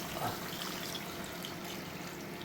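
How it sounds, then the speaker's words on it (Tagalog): Coconut milk pouring and trickling into a pot, a steady soft wash of water-like sound throughout, fairly quiet and with no talking. "Lagay na natin ang ating gata."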